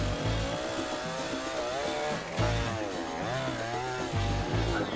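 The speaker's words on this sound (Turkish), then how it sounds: "Testereyle yani. Elektrik testereyle." An electric saw cuts wood in Geçmen village near Antalya, its motor running loud and continuous with a rising and falling whine through the cut.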